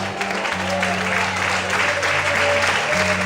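Congregation in a church service applauding the Lord, continuous clapping over a sustained low organ or keyboard chord, with voices calling out.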